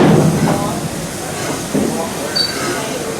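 An amusement park train stopped at the Bugs Bunny National Park station at Six Flags St. Louis, giving off a loud, steady broadband hiss, with voices talking over it near the start.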